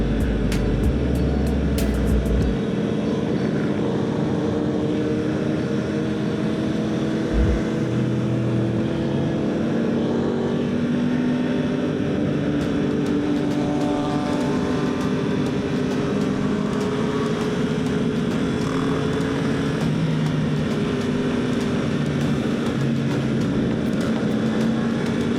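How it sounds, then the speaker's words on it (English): Dirt bike engines droning continuously during a street stunt ride, a loud steady roar with shifting revs and a brief low thump early on, no talk. "Dirt bike boys."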